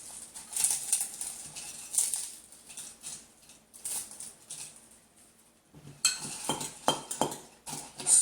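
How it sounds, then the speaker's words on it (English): Tortilla chips broken up in a pan with cheese for chilaquiles: close crisp crackles and clinks of a utensil against the pan in irregular bursts, with a busier cluster of snaps near the end and no talk. "And break up your tortilla chips."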